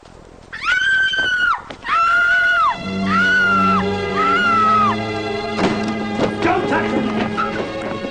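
A loud, piercing scream rises and breaks off several times in a radio-style audiobook drama, followed by a crash and clattering with horse-like sounds in the background.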